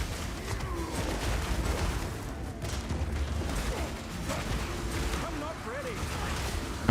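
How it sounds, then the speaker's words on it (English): Rumbling blasts and crackling detonations from Path of Exile 2 gameplay pile up in a dense, continuous wash of game effects, steady and moderately loud with no clear gaps. "Oh, we got the explosions, of course."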